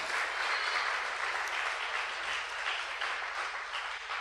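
A church congregation applauds steadily during a sermon, a dense, even wash of clapping that holds for the whole stretch with no voices over it.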